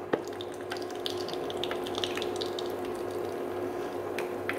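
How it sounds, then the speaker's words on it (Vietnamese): Vegetarian mock lean meat frying in hot oil in a pan, a continuous soft sizzle with small irregular crackles and pops, close and steady, with a faint low hum underneath and no talking. "Bây giờ mình sẽ chiên nha."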